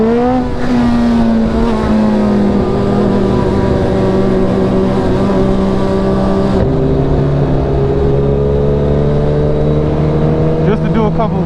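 A Suzuki Hayabusa 1600cc motorcycle accelerates hard through first gear, its engine note climbing steadily and loudly in a continuous rising howl. It briefly dips near the shift before pulling up again.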